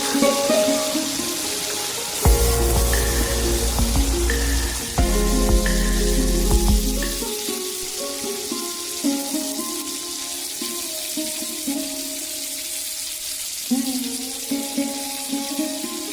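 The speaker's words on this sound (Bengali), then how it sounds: "লবণ আর হলুদ দিয়ে প্রথমে কাঁকড়াটা ভেজে নিচ্ছি" Crab pieces fry with salt and turmeric in hot oil, giving a steady soft sizzle beneath prominent background music, with a louder low rush for a few seconds early on.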